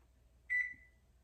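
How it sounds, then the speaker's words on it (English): An oven's control panel gives a single short electronic beep as it is switched on, clear and close in an otherwise quiet kitchen. "So let me turn the oven on."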